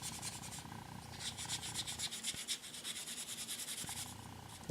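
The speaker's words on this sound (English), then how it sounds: "Now I'm going to hit it with some super fine steel wool." Super fine steel wool rubs a plastic toy robot, a faint close scratchy swishing in quick repeated strokes, with a couple of small knocks.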